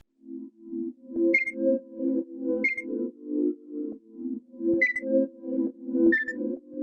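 Short bright flute runs hit at spaced intervals, about four times, over a pulsing pad chord backing; purely instrumental with no talking.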